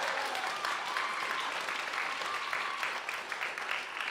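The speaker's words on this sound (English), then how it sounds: "So get a little round of applause for that." An audience at a creative writing spring showcase gives a steady round of applause, a dense, even wash of clapping that carries on without pause and sits at a moderate distance.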